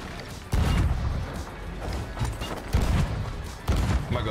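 Several heavy booming blasts from cannons in the video game Sea of Thieves, three or four loud thuds spaced a second or so apart over a noisy rumbling background.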